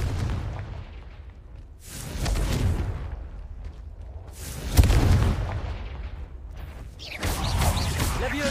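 Confringo blasting spells explode in a Hogwarts video game: three rumbling booms a couple of seconds apart, each a broad roaring burst that swells and fades, with low background rumble between them.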